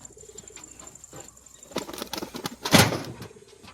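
A fancy pied pigeon with white eyes gives a few soft, low coos at close range, followed by a brief burst of wing flutter and rustling near the end.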